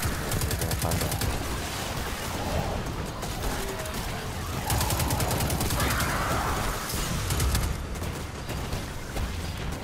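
Hand cannon gunfire from the video game Destiny 2 rings out in repeated bursts over dense, continuous battle noise, loud and close throughout.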